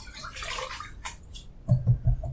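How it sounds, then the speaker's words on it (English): Water splashed onto a face with cupped hands before shaving, a few quick wet slaps and splashes near a running tap, close and fairly loud. "Let me splash some water on my face."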